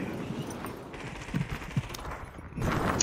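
Video game gunfire cracks out as a series of scattered, moderately distant shots over a constant background rumble, with no speech.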